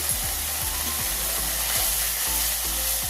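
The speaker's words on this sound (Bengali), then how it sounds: "আবারও নাড়াচাড়া করে ভালো করে কষে নেবে" Spice paste frying in oil for a prawn and taro-leaf curry, with a steady loud sizzle and repeated scraping strokes of a spoon stirring through it at a regular pace, no voices.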